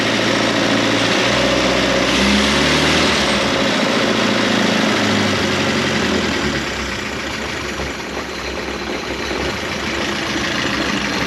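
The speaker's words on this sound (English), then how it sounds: "So the engine, bit of a misfire there" An Austin 7 engine, just rebuilt, idles loudly and close by, a low uneven rumble with a slight misfire stumble, easing a little in level partway through.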